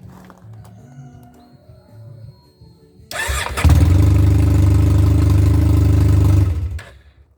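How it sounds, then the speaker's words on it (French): A Honda Silverwing scooter-style motorcycle with a fresh clutch and pulley job and a muffler cracked at the weld cranks briefly after some quiet handling noises, catches and settles into a loud, steady, close idle before shutting off. "Donc on va donner un petit coup de clé pour démarrer la moto."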